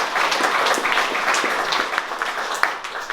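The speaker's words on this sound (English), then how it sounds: "You can clap at that if you like." Audience applause at a public forum on the Perth Freight Link in Cottesloe, a steady wash of many hands clapping for about three seconds, fairly loud and close, with no pauses.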